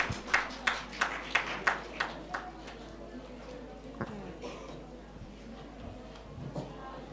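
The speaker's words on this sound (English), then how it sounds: "This big round of applause." A few sharp, evenly spaced claps at a research methodology workshop open the moment, then thin out into faint scattered taps over a quiet room.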